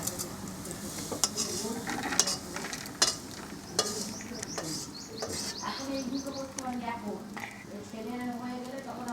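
Sim dana bhaja, a fried bean seed paste, stirred in a pan, soft sizzling under repeated scrapes and taps of a spatula against the metal, with faint bird chirps and a voice in the background.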